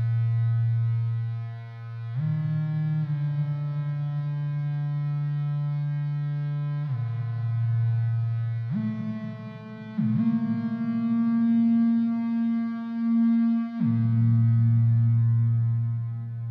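A Make Noise 0-Coast single-voice modular synthesizer plays sustained, buzzing low notes with distortion grit and reverb, shifting pitch every few seconds in a loud, continuous drone.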